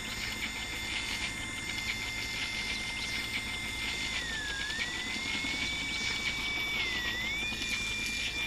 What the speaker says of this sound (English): Your helicopter's arrived, but it can't get close until you destroy that machine.